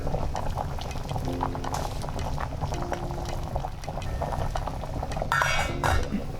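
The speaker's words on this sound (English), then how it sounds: "We are cooking our beans until it's half cooked." Beans boil in a pot, a steady close bubbling and gurgling that runs throughout with a brief clink of metal near the end, and no voices.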